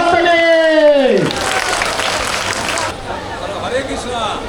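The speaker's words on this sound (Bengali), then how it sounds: "একটা জোরে হাততালি।" Loud applause from an audience at an ISKCON temple prize announcement during Ratha Yatra celebrations, a dense burst of clapping that swells after a voice and then fades into a softer, continuing patter.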